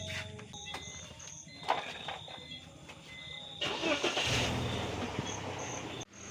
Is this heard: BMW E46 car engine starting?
yes